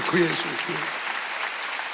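A church congregation at a Wednesday worship service claps, a brief dense spatter of hands that follows a voice at the start and continues evenly to the end.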